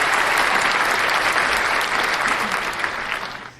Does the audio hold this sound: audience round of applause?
yes